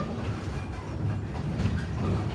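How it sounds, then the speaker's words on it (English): An excursion train on the East Broad Top Railroad rolls steadily along with a low rumble and rhythmic wheel clatter, continuous and fairly loud. "At this point, we'll be turning the train completely around on a Y"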